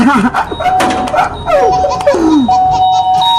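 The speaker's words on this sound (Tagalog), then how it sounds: "May pumipindot na naman sa doorbell namin." A doorbell is pressed over and over, its sustained chime tones ringing out in short bursts between bright, animated voices talking.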